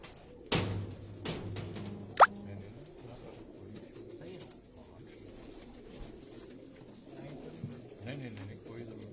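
A pigeon held in a hand gives soft low coos and a couple of sharp wing flutters or flaps near the start, faint against a quiet room murmur.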